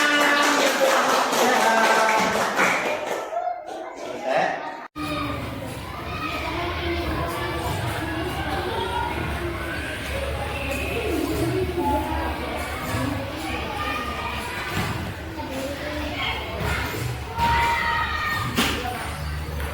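Children in a classroom clap together in a long, dense burst of hand claps, with some thumps and voices mixed in, after a brief quiet break near the start.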